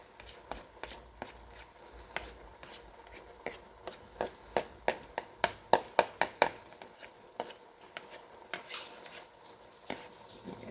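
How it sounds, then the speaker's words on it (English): A metal spoon stirs and turns collard greens and kale in a cooking pot, giving a steady run of close clinks and scrapes against the metal that build to a sharper, louder burst of clanks midway before easing off. "Just turn that and mix that. Got the metal spoon here."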